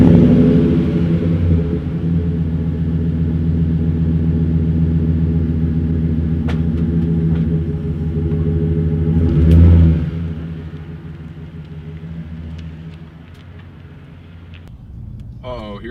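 A Chevrolet Silverado truck pulling away, a loud, steady low engine rumble with a brief swell near the end of the drive-off before it settles into a quieter idle-like drone, with talking over it.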